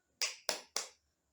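Three sharp, evenly spaced claps in a quick rhythm, close and crisp, with silence after, given as a classroom spirit clap (tepuk semangat).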